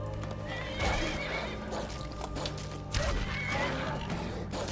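A horse in the video game Skyrim gives repeated loud neighs and whinnies mixed with clip-clopping hooves and game noise, dense and close throughout.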